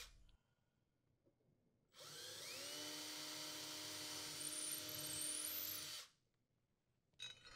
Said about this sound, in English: Using a 1/8 inch diameter drill bit, drill the holes where marked.